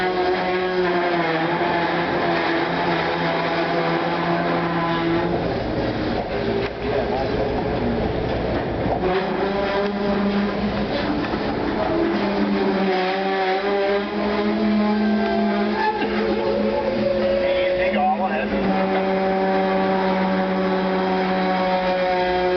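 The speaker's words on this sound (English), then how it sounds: "the brakes, which you hear squealing, were used to keep the train at a very slow speed" Train brakes squealing while holding a slow crawl during a heavy electrical transformer move on a scenic railroad, long shrill tonal whines rising and falling over engine rumble, loud and close, with someone talking over parts of it.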